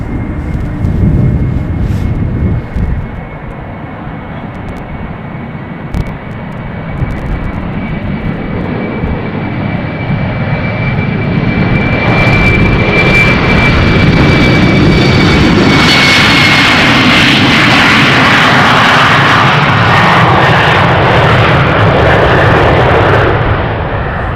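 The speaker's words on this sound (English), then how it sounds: "This is the Embraer 192 Humberside, 5 years old." An Embraer 190-series jet at Amsterdam Schiphol Airport roars loudly nearby with a steady engine whine that swells and builds toward the end, with no voices.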